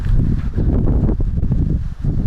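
Strong wind blows through palm trees in a garden beside a caravan, a continuous gusty roar with rustling fronds close to the microphone.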